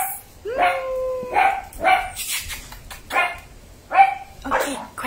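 Several dogs bark repeatedly in short bursts with yips and whines mixed in, fairly close and loud, with brief gaps between the barking spells.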